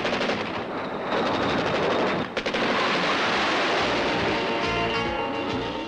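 An AMX-32 tank fires its 20 mm cannon in a rapid, continuous burst of loud, closely spaced shots that runs nearly unbroken through the whole stretch, with one brief pause.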